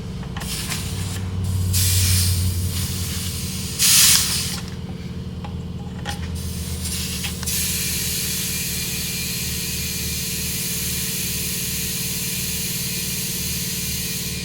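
An air compressor hisses and hums as it inflates a car tire after a puncture plug repair, with a steady loud airflow broken by a few louder bursts early on, then a constant drone.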